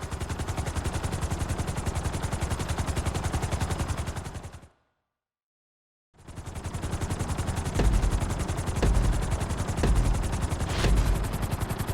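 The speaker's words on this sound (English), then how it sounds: "we're gonna put you in a helicopter for this lesson" A helicopter flies in Grand Theft Auto V, its rotor beating in a loud, rapid, steady chop that cuts out completely for over a second midway and then resumes just as strongly.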